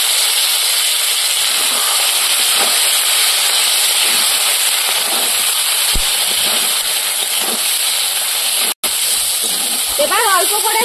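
A little water poured onto spice paste with ginger, salt, turmeric and chilli frying on a clay stove, sending up a loud continuous steamy hiss that runs throughout with a brief cut near the end.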